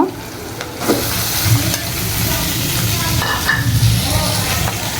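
Blended chicken frying with onions in a pan for momo stuffing, giving a continuous close sizzle with occasional stirring scrapes of a spoon against the pan.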